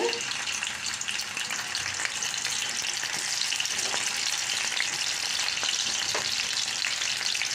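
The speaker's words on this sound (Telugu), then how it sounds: "కరివేపాకు వేసుకొని బ్రౌన్ కలర్ వచ్చిందాక వేగనివ్వాలి" Onions and curry leaves fry in hot oil with a steady, close, broadband sizzle and crackle throughout, with occasional light stirring clicks and no talking.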